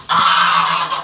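Several geese honk loudly and close together at an outdoor feeder, a dense, sustained blare of overlapping calls with no talking.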